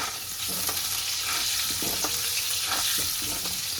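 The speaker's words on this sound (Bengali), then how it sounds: "আলুটাতে একটু হলুদ দিয়ে দিই। আর একটু নুন, লাল লাল করে ভেজে নিই।" Potato pieces fry in oil with turmeric and salt, giving a steady close sizzle with spoon scrapes and stirring clatter throughout, no voices.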